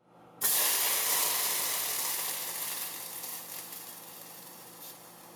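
A spoonful of water hits a hot pot and bursts into a loud sizzle, then settles into a steady hiss that slowly fades over several seconds.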